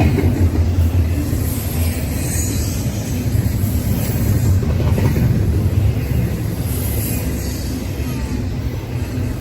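An intermodal freight train rolls past at Fullerton, a steady dense low rumble of wagons that holds loud and continuous from start to finish, with no voices over it.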